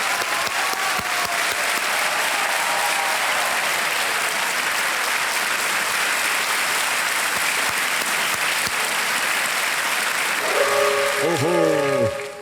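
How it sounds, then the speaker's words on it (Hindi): A studio audience on the KBC quiz show applauds loudly and without a break. Near the end a blaring hooter-like horn sounds over the clapping. "तालियां बजते रहे देवियों सनलाइन के लिए"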